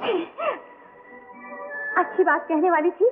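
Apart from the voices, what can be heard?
woman sneezing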